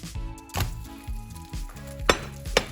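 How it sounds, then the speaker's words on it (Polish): Omelette sizzling in a frying pan, a steady close hiss under a few sharp clinks and scrapes of a utensil against the pan, with no talking. "I teraz smażę go z drugiej strony i już będzie koniec."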